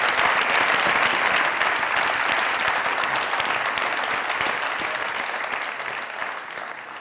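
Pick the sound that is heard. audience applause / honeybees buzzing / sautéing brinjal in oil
audience applause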